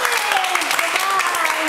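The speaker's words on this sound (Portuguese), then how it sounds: "e aqui o seu grande amigo Marcolino, que merece uma salva de palmas." Brief audience applause, a dense patter of clapping hands lasting under two seconds, with voices audible beneath it.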